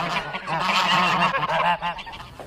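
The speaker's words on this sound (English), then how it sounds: "not to mention the geese." A flock of geese honks loudly and continuously, their overlapping calls filling the air close by with no voices.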